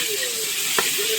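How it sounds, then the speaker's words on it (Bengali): Cardamom, cinnamon, bay leaves and ground black and white pepper sizzle steadily in a hot pan, with a single soft scrape of stirring partway through; a brief, close, continuous frying hiss with no talking. "এলাচ, দারচিনি, গোলমরিচের গুঁড়ো, 2টো তেজপাতা, সাদা গোলমরিচের গুঁড়ো দিয়ে ভালো করে নাড়া দেব।"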